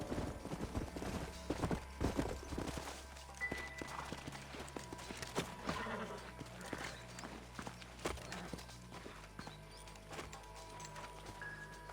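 Horse hooves clip-clop at a steady walking rhythm in the Red Dead Redemption video game, moderately close and layered over ambient game background with faint distant bird calls.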